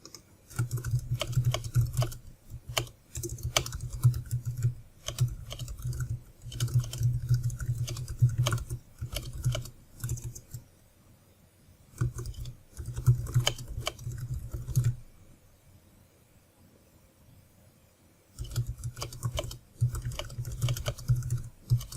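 Someone types on a computer keyboard in bursts of quick key clatter, broken by a few pauses of near silence, heard close up and on its own.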